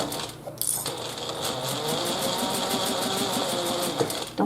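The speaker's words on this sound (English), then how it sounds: "Don't you just love the purr of the sewing machine?" A domestic sewing machine stitches along steadily, its rapid even clatter and motor whir holding a constant rhythm, close and clear, with a short pause and a few clicks near the start.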